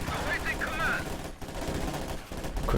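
Rapid PPSh submachine gun fire from Soviet conscripts in the strategy game Company of Heroes 2, a dense crackling battle din of overlapping bursts that runs steadily throughout, with speech-like sounds mixed in.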